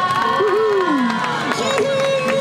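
A street busking crowd in Hongdae cheers and whoops for a b-boy team, with high rising and falling shouts over a lively background murmur.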